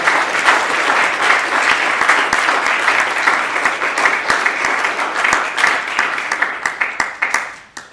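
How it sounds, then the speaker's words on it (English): Sustained audience applause at a military leadership talk, dense steady clapping filling the room for several seconds before tapering off at the end. "let's give one final round of applause"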